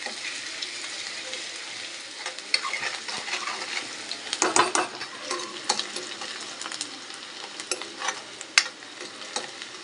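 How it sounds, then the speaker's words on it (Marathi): Onion frying in oil with reddened garlic for a spicy drumstick dish, a steady low sizzle under intermittent metallic clinks and scrapes of the stirring spoon against the pan, close and without speech. "कांदा टाकून घेऊया कांदाही मस्त फ्राय करून घेऊया"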